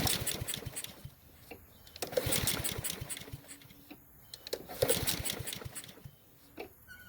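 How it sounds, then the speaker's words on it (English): A small engine is cranked by repeated pulls on its starter rope, the compression being tested through the spark plug hole. Each pull gives a burst of rapid chugging, several pulls in a row close by, with brief pauses between them. "Just thread it into the spark plug hole and pull the rope a couple of times."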